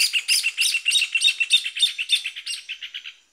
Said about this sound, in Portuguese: Os passarinhos cantando.